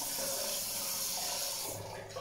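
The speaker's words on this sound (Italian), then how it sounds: "aprire l'acqua" Water running steadily from a tap, as in a bathroom sink, a continuous close hiss that eases off near the end.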